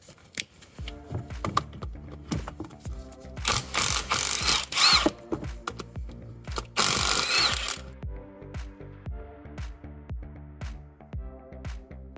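A ratchet wrench clicks in quick rhythmic strokes while a 13mm bolt is loosened during a Volvo D5 timing belt job, close and crisp with louder bursts of rapid clicking in the middle.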